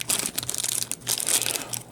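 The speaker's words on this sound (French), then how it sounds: "On va ouvrir le petit sac, si je suis capable." Crinkling and crumpling of a small plastic accessory bag being opened for a Newage H21 Scaramanga figure, with continuous close rustling bursts that pause briefly midway.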